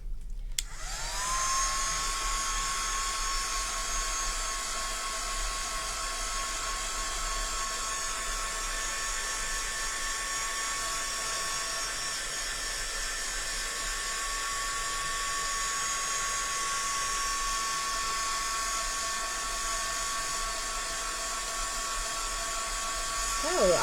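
A handheld heat tool drying a stamped craft storage book, a continuous loud whining blower hum held steady for the whole stretch with no talk.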